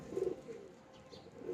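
Trained pigeons coo in low, soft bursts near the start and end of a short stretch, close by and without any voices.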